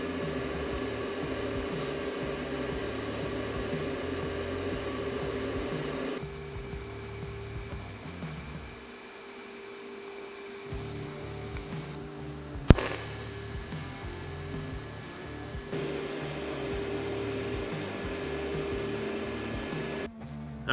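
Tack weld going onto a homemade rocket furnace, a steady buzzing crackle that runs nearly the whole time, dipping briefly in the middle, with a sharp snap near the end.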